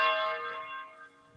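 Church bells ring close and fairly loud, a rich struck tone that slowly decays and hums on without any voices.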